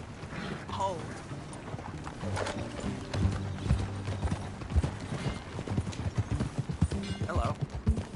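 Horse hooves clatter along during a ride in the Western video game Red Dead Redemption 2, a rhythmic clip-clop that grows louder and denser toward the end, mixed with tack and mechanical rattles, a brief whinny, and voices talking.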